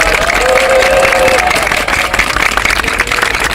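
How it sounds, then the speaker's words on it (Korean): An audience at a press conference applauds, with steady, dense clapping and crowd noise filling the whole stretch at a fairly loud level. "여러분들께서 박수로 응원해 주시면 고맙겠습니다"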